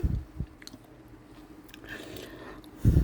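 Ripe Monthong durian flesh being bitten and chewed up close, a few soft wet crunching bites at the start and end with quieter chewing in between.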